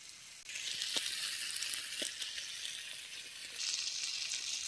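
Fish fries in hot oil with curry leaves over an outdoor wood-fired stove, a steady bright sizzle with occasional pops, with no voices.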